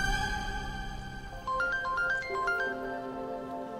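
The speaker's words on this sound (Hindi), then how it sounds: "अम्मी का फोन है मैं अभी आई।" A mobile phone ringtone plays indoors: a bright, stepped electronic melody of rising and falling notes rings out clearly over a low steady hum, with no one speaking.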